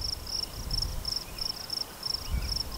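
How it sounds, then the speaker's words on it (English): Steady, high-pitched cricket chirping pulses evenly in the background at a Black Hills, South Dakota campsite, faint and continuous, with low rumbling ambience underneath. "you can probably hear the crickets in the background"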